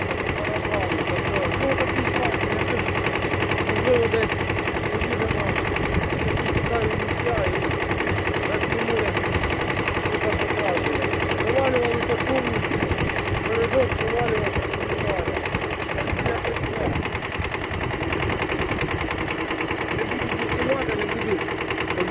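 A Kubota B5001 mini tractor engine runs in -10 frost with a continuous, steady diesel chug and knocking rumble. Someone talks over it throughout.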